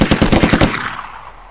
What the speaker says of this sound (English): Let's go ahead and just fire on these guys.